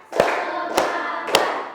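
A class claps in a classroom pep routine, three sharp percussive claps spaced about half a second apart, each ringing briefly in the room, close and fairly loud.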